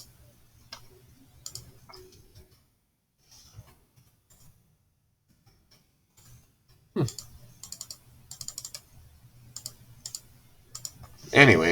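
Computer keyboard keys click in scattered bursts, sparse at first and then busier rapid typing, close and fairly quiet, with a voice talking intermittently.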